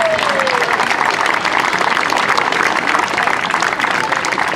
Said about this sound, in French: Et là, les gens applaudissent.